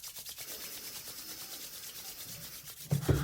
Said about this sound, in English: we now want you to rub your hands together.